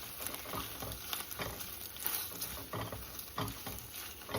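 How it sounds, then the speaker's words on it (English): Pasta simmers in a pan with faint, steady bubbling and soft irregular patter, quiet and close, with no voices. "Stir in your pasta and just let it simmer a little bit."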